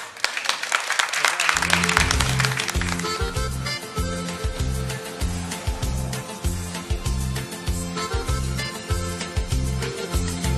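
Audience applause greets a singer for a couple of seconds, then a band launches into a steady, thumping beat that carries on loudly over the fading clapping.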